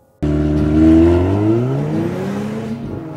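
A Volvo S60 Polestar with a 2-litre engine starts and accelerates hard, a loud, close growl rising steadily in pitch and holding strong throughout, with no talk over it.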